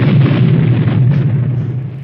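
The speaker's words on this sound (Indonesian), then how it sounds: "Kopral Abimanyu membakar tempat itu hingga pada akhirnya meledak." A deep, rumbling explosion roars continuously and then slowly fades, loud and heavy with low-end boom.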